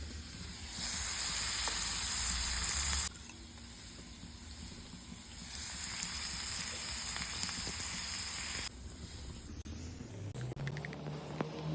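Cluster beans (gavar) and vegetables sauté with red chili powder, coriander powder and salt in a pan, giving a steady hiss and sizzle that shifts in intensity with stirring, moderately quiet and continuous.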